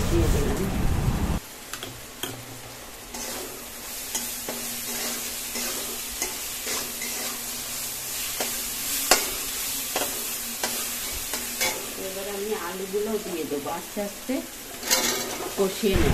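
A ginger, onion, garlic and cumin spice mix fries in a pan and is stirred, a steady close sizzle broken by repeated scraping strokes and light clinks of the utensil, with a voice speaking at times over it.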